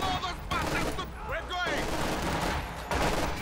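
Heavy machine guns rattle in the Company of Heroes 2 video game, with dense, continuous bursts of gunfire filling the whole moment under a busy battlefield mix.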